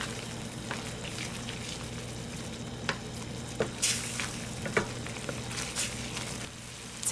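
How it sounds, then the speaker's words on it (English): White wine cooking off in a pan of ground beef spaghetti sauce, giving a steady close sizzle and bubbling with scattered sharp pops and crackles throughout. "I'm going to put some good old white wine. Just going to let that cook out."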